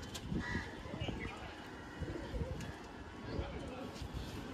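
Pigeons of several fancy breeds held by a seller coo softly amid a busy, noisy backdrop, their low murmuring calls rising now and then under steady crowd chatter and handling sounds.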